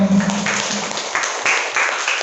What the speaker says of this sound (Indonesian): baiklah kita berikan aplaus buat Pak Hasan